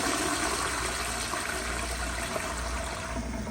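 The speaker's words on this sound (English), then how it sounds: "But here's the flush." An American Standard Yorkville toilet flushes with a loud, continuous rush of water. It is close and steady for several seconds and plays alone with no talk.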